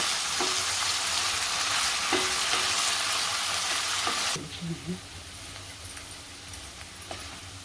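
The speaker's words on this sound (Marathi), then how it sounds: "परतवून घेते चांगलं तुपावरती" Diced potatoes sautéing in ghee in a pan for a fasting meal give a steady close sizzle with occasional stirring scrapes, louder at first and then settling to a quieter fry.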